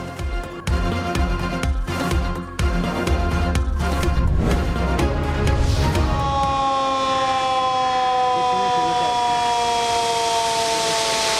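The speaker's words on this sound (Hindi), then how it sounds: "स्पिलवेज खोलने से पहले सायरन बजाए गए।" Warning sirens sound at Rawal Dam near Islamabad before the spillways open after heavy rain: a loud burst of music gives way to a steady, sustained wailing tone that slowly rises and holds to the end.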